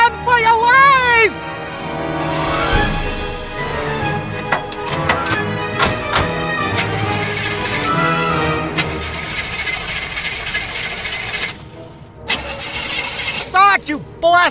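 An old car's engine cranks repeatedly without catching, set amid a busy, spooky radio-drama soundscape with music and voices over it throughout.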